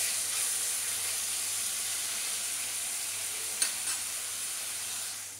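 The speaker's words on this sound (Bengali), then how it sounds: "এরপরে চিকেনগুলো তেলের মধ্যে দিয়ে একটু হালকা করে ভেজে নেব, যাতে চিকেনটা খুব ভালো নরম হয়ে যায়" Marinated chicken pieces fry in oil in a pan, giving a steady, even sizzling hiss with one brief clink of stirring and no voices.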